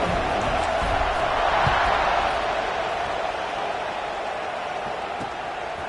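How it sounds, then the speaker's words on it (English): A college football stadium crowd roars before a kickoff in the video game College Football 26, a loud, steady wash of massed cheering that swells slightly, then holds, with no clear speech. "They're set to kick it off, and this crowd now ready to get behind them."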